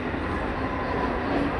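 A 15-car Mumbai suburban local train, a loud steady rumble and rolling roar heard from on board, continuous and even throughout.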